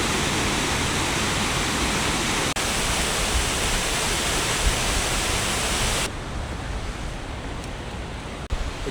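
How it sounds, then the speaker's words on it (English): The Big Sioux River at Sioux Falls rushes in a loud, constant roar of flowing water, unbroken for the whole stretch apart from a couple of tiny dips. "It's the Big Sioux River,"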